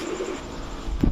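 Pigeons kept at a loft of highflyer and racing birds coo softly, a low murmuring call with a brief closer coo at the end.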